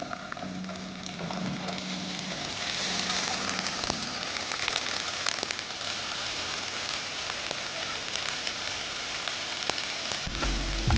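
Ginger garlic paste sautéing with onions in a pan for mutton bhuna gosht, a steady dense sizzle and crackle running throughout with no talk, ending in a low thump.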